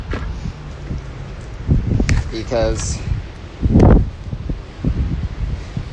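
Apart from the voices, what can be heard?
wind blowing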